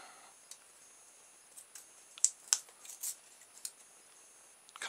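Wire on a 9V battery connector is cut with a few quiet, sharp snips close up, two crisp clicks followed by lighter ticks, in a silent room.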